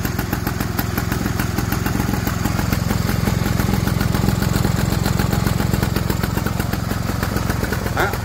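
A small Stuart Turner stationary engine, its exhaust leak fixed, runs steadily at a constant idle, its rapid even chugging continuous and close throughout with no change in pace.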